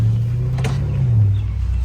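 A BMW 650i with straight pipes puts out a deep, steady exhaust rumble close by. The pitch shifts slightly rather than climbing in sharp revs, and no one speaks over it.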